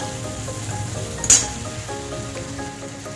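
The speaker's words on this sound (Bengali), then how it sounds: "লঙ্কার গুঁড়ো ভালো করে একটু কষে নেবো" A spice paste of ginger paste and chili powder frying in oil, a soft continuous sizzle with one sharp tap from a utensil partway through.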